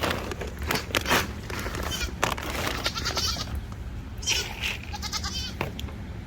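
Several goats bleat in overlapping bursts, some close and loud, others further off, over a busy background of shuffling and farmyard noise.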